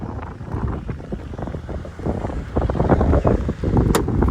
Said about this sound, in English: It's a bit windy, so forgive me for that.